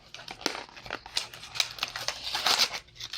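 Sealed plastic packaging around beauty products being torn and opened, giving close crinkling and crackling with sharp snips and rips in an uneven rhythm, with no voice over it.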